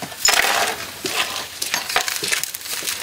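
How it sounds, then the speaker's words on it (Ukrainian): Residents sweep and scrape broken window glass off a street after a blast, giving irregular crunches, clinks and scraping strokes, close and fairly loud with no talk. "Наразі жителі прибирають на вулиці скло."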